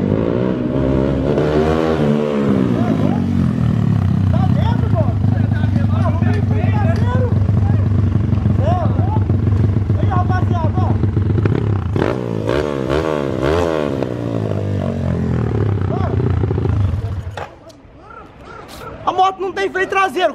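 Honda Biz motorcycle bored out to 240cc with a 150 cylinder head and a Twister carburetor, its engine droning loud and steady, then revving and surging near the mic before dropping away, with a voice talking over it.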